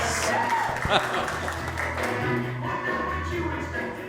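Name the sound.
audience applause at stand-up comedy show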